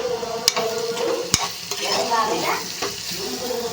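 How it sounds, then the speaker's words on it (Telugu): Ivy gourd (tindora) fry is stirred in a pan, with a close sizzling hiss broken by sharp metal clacks of a spatula against the pan and scraping strokes, and no speech. "కలిపేసుకుందాం."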